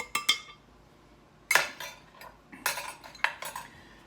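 A metal utensil clinks and scrapes against a bowl while scone dry ingredients with baking powder and orange zest are mixed, in close, irregular bursts separated by brief pauses.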